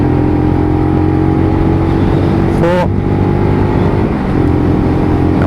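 Lexmoto LXR SE motorcycle ridden on a dual carriageway near 45 mph, working up through third and fourth gear; a steady engine drone with wind noise, and a brief pitch sweep mid-way during a gear change.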